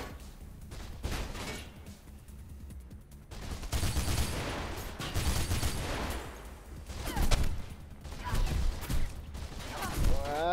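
Bursts of weapon fire in Mirror's Edge come in uneven clusters between quieter gaps, growing louder toward the middle and end, with someone speaking French intermittently over the action.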